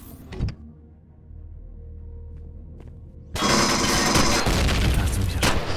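Gunfire in Empyrion: a sharp shot early, a quieter stretch with faint mechanical clicks, then a sudden loud burst of sustained rapid fire that continues to the end.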